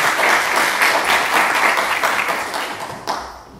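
A crowd applauding steadily, dense clapping that gradually thins out toward the end.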